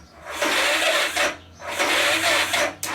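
Motorcycle engine on full choke cranked by a lithium jump starter, two loud grinding starter bursts of about a second each with a short gap between them, never catching, with no voices.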